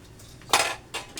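A lid set onto a cooking pot of simmering milkfish, two quick metallic clanks close by, the first sharper and louder than the second.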